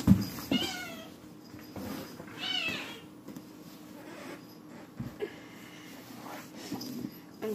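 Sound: kitten meowing

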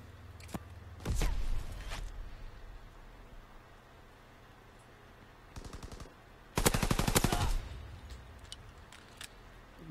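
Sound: machine pistol gunfire in Call of Duty: WW2 video game

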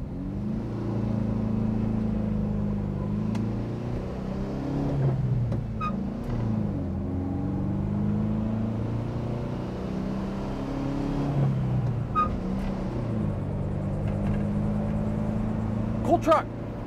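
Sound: 1986 Volkswagen pickup engine idling at a traffic light

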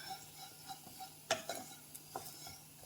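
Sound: stirring and roasting ingredients in a pan for sambar

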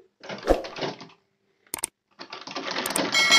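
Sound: sewing machine stitching fabric

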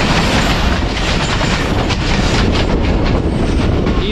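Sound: Ravi Express passenger train passing on rails

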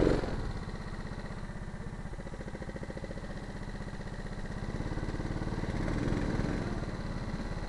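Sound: go-kart engine accelerating during karting qualifying

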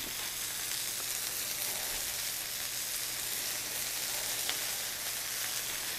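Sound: sausages and onions frying in oil in a pan

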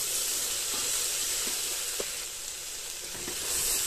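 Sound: chana dal, potato and soybean frying in a pan

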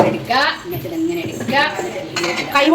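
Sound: metal vessels handled while serving rice

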